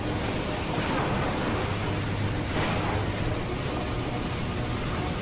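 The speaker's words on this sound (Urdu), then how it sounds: "اچانک اونچی اونچی لہریں اٹھنے لگیں" High ocean waves surge around a boat at sea, a continuous loud broadband roar of water and wind with slow swelling rushes and no speech.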